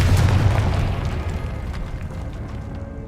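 A Confringo spell explodes in Hogwarts Legacy with a sharp, heavy boom that quickly decays into a low, fading rumble, with no voices.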